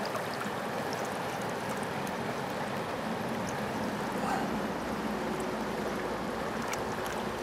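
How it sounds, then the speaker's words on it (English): Steady rushing water of a fast-flowing mountain stream, a Clark Fork River tributary in Montana in July, a broad continuous wash close by with no talk. "And what a gorgeous mountain stream, too."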